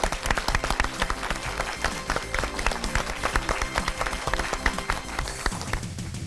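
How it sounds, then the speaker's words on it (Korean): A studio audience claps for a pastor's talk on mother-in-law and daughter-in-law conflict, a dense burst of sharp hand claps that fades near the end, with some voices underneath. "박수로 시작하죠 오늘도"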